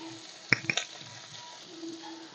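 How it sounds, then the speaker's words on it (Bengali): Cashew spice paste of cumin, coriander, Kashmiri chili and garam masala sizzling in oil as it is sautéed, a steady faint fry with a few sharp clacks of a spoon against the pan near the start. "কাজু বাদাম বাটা সমস্ত মশলাগুলো দিয়ে আমি কিন্তু ভালোভাবে কষে নিচ্ছি"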